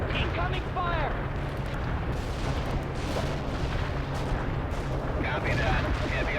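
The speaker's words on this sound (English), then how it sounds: "Heavy artillery barrage inbound." Heavy artillery barrage in the World in Conflict: Soviet Assault video game, a continuous rumbling roar of distant explosions and gunfire over a town battle, with radio voices and shouted commands on top.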